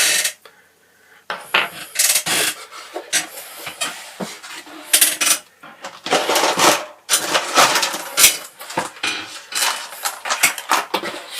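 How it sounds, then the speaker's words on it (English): Small screws are removed from the logic board of a Sprout Cubby tablet, heard as close, irregular metallic clinks, scrapes and rattles of screwdriver and tiny parts with brief pauses. "Looks like there's 4 or 5 screws holding the logic board on. I'm going to take those out."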